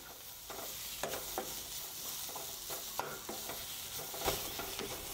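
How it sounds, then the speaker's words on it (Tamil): Thuthuvalai leaves sauté in a pan, a soft, fairly faint sizzle broken by intermittent scraping strokes of a spatula, close by and without any speech. "இன்னும் கொஞ்சம் ஒரு 2 நிமிஷம் வதங்கட்டுங்க"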